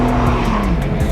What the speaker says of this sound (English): You're doing a burnout with a three-wheeler, bro.